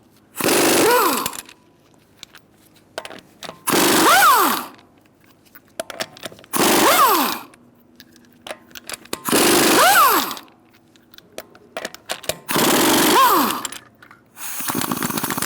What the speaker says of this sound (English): Using a 19mm socket, I'll take off our lug nuts.